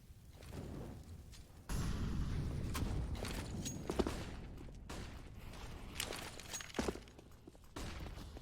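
Grenades and gunfire ring out in a Counter-Strike match on the Mirage map, with muffled thuds, footsteps and sharp bursts of in-game sound effects spread across several seconds.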